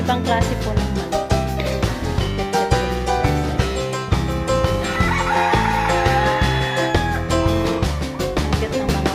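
Imported chickens of different colours clucking and crowing, with other farm animal calls mixed into a busy, continuous stretch. A loud, steady music-like backdrop runs throughout.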